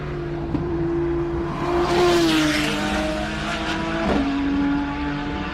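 A race car charges up the Simola Hillclimb course, its engine note climbing and dropping through gear changes, loud and close with a brief tire-scrabbling burst midway and the engine pulling hard again near the end.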